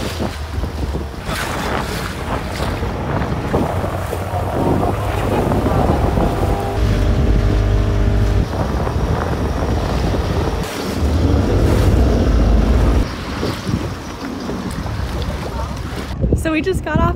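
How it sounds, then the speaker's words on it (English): A small water-taxi boat carries passengers across the bay at Perast, Montenegro, toward the islet of Our Lady of the Rocks, with a steady engine drone, water wash and wind buffeting the microphone throughout, and brief voices over the noise. "we just got off of our little taxi boat onto Our Lady of the Rocks Island"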